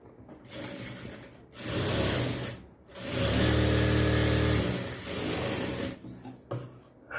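A sewing machine stitching a blouse yoke strip runs in three loud, close bursts of rapid mechanical whirring, each stopping briefly before starting again.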